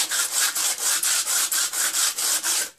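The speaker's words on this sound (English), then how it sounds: "Get the sandpaper, and all you want to do is," Sandpaper rubs back and forth inside a Hoover vacuum cleaner in about a dozen rapid, even, rasping strokes, loud and close, ending abruptly.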